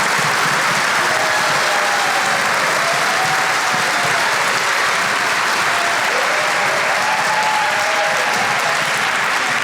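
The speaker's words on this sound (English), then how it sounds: "can we give a round of applause to their families?" Sustained applause from a room full of people at a school district staff gathering with a student panel, loud and steady throughout with no break.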